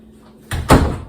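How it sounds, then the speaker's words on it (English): A closet door in a home is pushed shut during housework, giving two close thuds about a fifth of a second apart, the second louder and heavier, with quiet room tone before them. "Let's just maybe shut the door."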